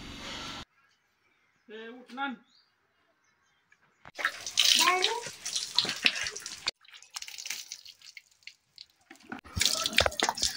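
Water splashes and drips as cattle are washed, in uneven bursts, with people talking nearby between and over the splashing.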